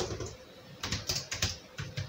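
Computer keyboard being typed on, a close run of light clicking keystrokes in uneven bursts over quiet room tone.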